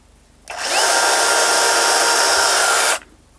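Procraft PKA44 cordless electric mini chainsaw running, a loud steady high-pitched whine starting abruptly, holding constant for about two and a half seconds, then cutting off sharply, alone without talk.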